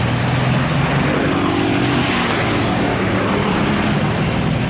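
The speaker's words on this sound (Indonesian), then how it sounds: "Ini Hino Erika teman-teman ya. Dia sedang menurun di tanjakan Muara Bungo selepas terminal." A Hino Erika bus descends a hill near Muara Bungo past the terminal on Sumatra's central route, its engine roaring steadily and close, with broad road rumble throughout.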